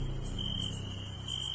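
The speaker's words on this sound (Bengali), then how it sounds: "চারিপাশে ঝিঝি যেন তীব্র স্বরে চিৎকার করছে।" Crickets chirp steadily and loudly at night, a dense, continuous high-pitched trill over a low background hum, with no talking.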